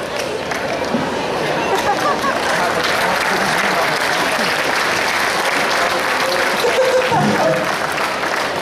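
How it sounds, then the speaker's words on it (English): A crowd at a sci-fi convention junior cosplay competition applauds steadily with dense, continuous clapping, mixed with some cheering and background chatter throughout. "Another round of applause, guys."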